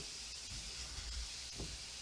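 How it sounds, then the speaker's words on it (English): Steady hissing sizzle of onions frying in a hot pan, continuous and fairly soft, with a few faint clinks. "A little sizzle action going on there."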